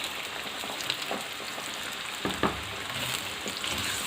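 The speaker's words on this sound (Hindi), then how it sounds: "ये ऑयल ले लिया है और इसमें अब जाएगी जी प्याज" Sliced onion frying in hot oil in a pan for a spiced okra dish, a dense, close, continuous sizzle with a couple of sharper crackles and stirring bumps.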